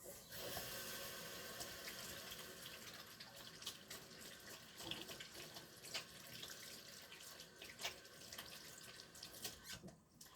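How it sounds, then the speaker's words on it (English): Water running from a kitchen tap as hands are washed, a steady rushing stream broken by irregular splashes and rubbing, fairly quiet, with no talking. "Lots of hand washing."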